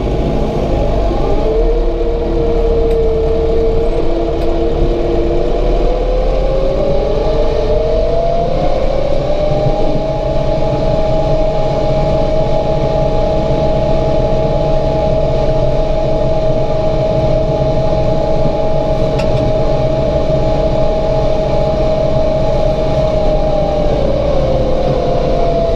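A Massey Ferguson 1755M compact tractor engine runs loud and close in gear for a long stretch, its steady drone rising in pitch as it pulls harder, then holding a constant even note.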